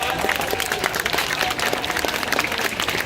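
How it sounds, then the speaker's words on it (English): Steady, dense applause from an audience at a sea lion show at the Vancouver Aquarium, many hands clapping continuously at a constant loud level throughout. "a big thank you and round of applause"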